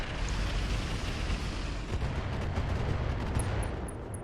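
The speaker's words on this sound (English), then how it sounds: "we're just going to fire the Ultra AC5 LRM-20 combo at this warrior" A RogueTech mech game's Ultra AC5 autocannon and LRM-20 missiles fire together in a loud, continuous barrage of booming shots and rumbling blasts, with no talk over it.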